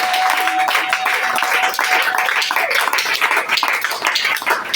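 A church congregation applauding in praise of the Lord, sustained loud clapping from many hands filling the room steadily from start to finish.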